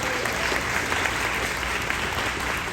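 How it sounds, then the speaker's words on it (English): An outdoor opening-ceremony crowd at the Blossom Trail event in Fowler claps in a dense, continuous wash of applause, even and sustained throughout, with no voices standing out above it. "I think this is worth a round of applause"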